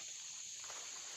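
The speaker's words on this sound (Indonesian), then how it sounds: "Ini emang suara jangkrik alami." Natural crickets chirp outdoors on a hillside, a steady high-pitched trill running continuously and fairly faint, with soft rustling in the background and no talking.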